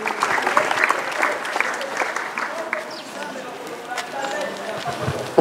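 Congregation applauding during a funeral service, a sustained patter of clapping hands that carries steadily through the whole stretch, with voices present underneath.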